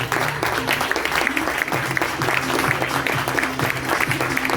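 Studio audience of children applauding skipper Manuel Cousin, a loud, continuous crowd of clapping with a steady pulsing rhythm running underneath.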